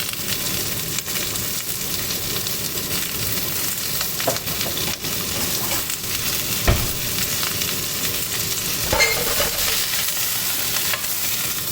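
Napa cabbage stir-fries in a hot pan, giving a continuous loud sizzle with scattered scraping and tossing noises throughout.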